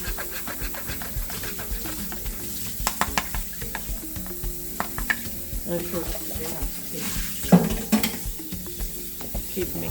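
Halwa mixture being stirred in a pan for a Guyanese recipe, giving steady close scraping and soft sizzling with scattered clinks, continuous throughout.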